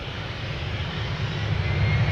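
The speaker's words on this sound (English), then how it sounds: "Embraer 190 KLM flight 1178, going to Stavanger, 73." A KLM Embraer 190 jet takes off from Schiphol's Polderbaan, its engines giving a loud, steady, close roar that builds slightly across the whole stretch.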